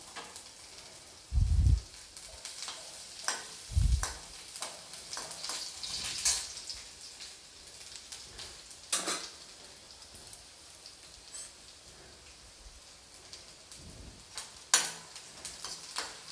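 Garlic, ginger and leek fry in a pan on a high flame for fried rice. A soft, continuous rain-like hiss runs throughout, with a few low thuds and sharper ticks now and then, fairly quiet and with no one speaking.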